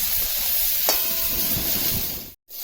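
Mixed vegetables such as aubergine, beans and potatoes fry with fish in a pan, giving a close, steady sizzling hiss with a sharp crackle near the start and a brief cut to silence near the end.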